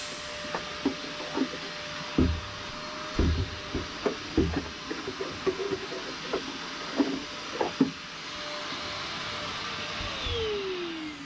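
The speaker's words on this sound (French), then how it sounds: "on branche l'aspirateur sur le 220" Vacuum cleaner powered from a boat's 220 V inverter at anchor, droning steadily with knocks and bumps of handling over it, then running more evenly toward the end.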